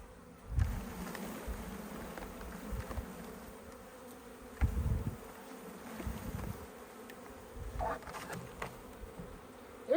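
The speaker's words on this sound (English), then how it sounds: "Look at all those bees. They all went in there." A swarm of honeybees buzzes steadily inside a bush outdoors, a dense, continuous drone close by with occasional rustles and thumps of branches being shaken.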